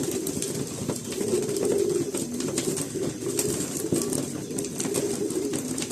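Pigeons coo softly and repeatedly in low, burbling calls, with a steady background hum running underneath throughout.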